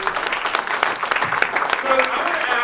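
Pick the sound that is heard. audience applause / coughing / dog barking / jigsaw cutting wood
audience applause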